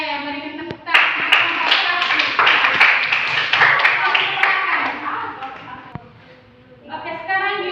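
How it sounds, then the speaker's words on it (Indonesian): Classmates in a school classroom clap together after a group presentation, a dense burst of hand claps lasting several seconds, fading briefly and then resuming, with children's voices mixed in. "berikan tepuk tangan"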